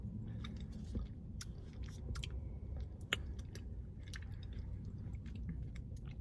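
Someone chews a bite of sweet, tangy baked beans with onions up close, soft wet squishing and light crunches repeating over a low background rumble.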